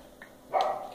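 A single short dog bark, close and fairly loud, following a faint brief yelp, with no talk.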